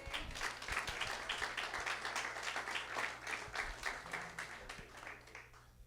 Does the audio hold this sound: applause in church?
yes